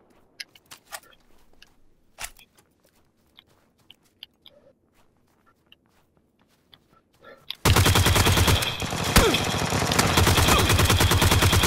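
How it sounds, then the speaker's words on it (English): PUBG game gunfire: scattered faint clicks and a single sharp shot early on, then a sudden loud sustained burst of rapid automatic fire that continues to the end. "How's that shooting then?"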